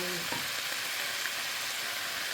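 Leftover old vegetables stir-fry in a pan with a constant bright hiss and crackle, a brief clatter of stirring near the start.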